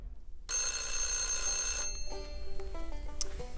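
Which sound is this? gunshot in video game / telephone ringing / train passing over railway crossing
telephone ringing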